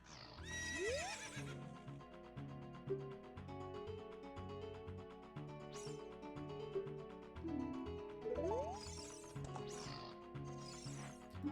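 Horse neighing and hooves clip-clopping in the video game Zelda: Ocarina of Time, two loud whinnies near the start and again around the eighth second, over steady game music.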